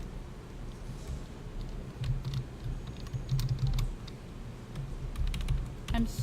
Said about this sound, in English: I'm so good at typing, guys.